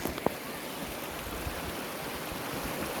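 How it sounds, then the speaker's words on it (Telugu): A small waterfall at Bodakonda gives a steady, even rush of falling water, moderately distant and unbroken, with one brief sharp knock near the start. "సో ఇదే వాటర్ ఫాల్, చాలా చిన్న వాటర్ ఫాల్ ఇది."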